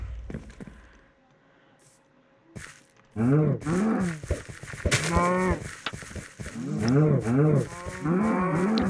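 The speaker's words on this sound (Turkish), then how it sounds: "Her vurunca inek sesi çıkıyor." Repeated synthetic cow moos in a video game, one each time a hit lands, several in quick succession, loud and close, with short clicks and thumps between them.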